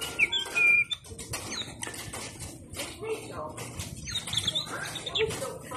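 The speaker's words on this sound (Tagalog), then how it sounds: "Tunog ng mga ibon." A Casio alarm clock plays its demo of synthetic bird sounds, with short chirps and tweets over a constant background murmur and fluttery rustle, at moderate level.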